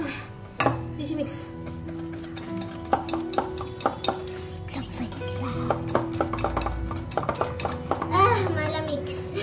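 Chocolate biscuit pudding mixture being stirred in a bowl for a family day treat. A spoon clinks and scrapes against the bowl in uneven bursts, close by, while children's voices chatter over it.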